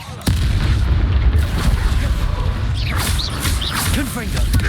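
A Confringo blasting spell goes off in the Hogwarts Legacy video game: a sudden loud boom followed by a sustained rumbling blast and whooshing swirls, with a voice calling out over the noise.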